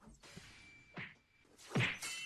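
A few short whacking hits, mouth-made imitations of punches, scattered unevenly and fairly faint.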